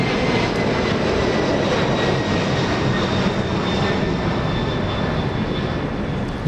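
A Boeing 767 airliner powered by GE CF6 jet engines roars steadily at an airport, a loud broadband engine rush with faint whining tones, continuous throughout.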